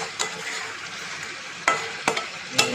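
Prawns are stirred and fried in a pan, giving a soft continuous sizzle broken by a few sharp scraping stir strokes, close and moderately quiet, with no talking.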